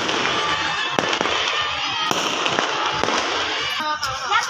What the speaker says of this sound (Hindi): दिखा रहे हैं आपको फुल आतिशबाजी का इस टाइम का नज़ारा